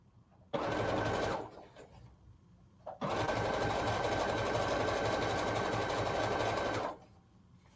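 A sewing machine stitches fabric for a Black Power flag, running a little slower than expected: a short whirring burst, a pause, then a long, steady, loud run of about four seconds before it stops.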